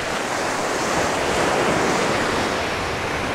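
Sea waves break on a sandy, shell-strewn beach at Golubitskaya, heard as a continuous, loud, close roar of surf with heavy wind buffeting the microphone and no voices.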